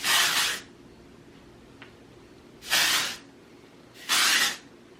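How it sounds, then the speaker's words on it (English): Three short hissing bursts of aerosol hair spray, each lasting about half a second, with quiet pauses between them. "Hold my hair up and just spray the tiniest bit."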